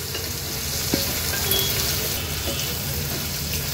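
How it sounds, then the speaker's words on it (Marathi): Onion fries in oil in a pan for a Koli-style dried bombil curry, making a loud, steady, dense sizzle that holds evenly up close with only a faint click or two and no speech. "आता कांदा छान शिजवून घ्यायचा आहे आपल्याला"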